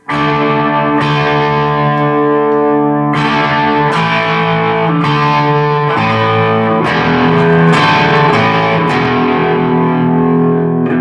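Loud, heavily distorted electric guitar open power chords of three notes ring out one after another, each sustained about a second before the next strike, with no talking.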